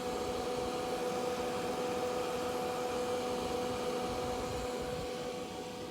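A refrigerator runs with a steady mechanical hum and whir, constant and moderately loud throughout, with no talking.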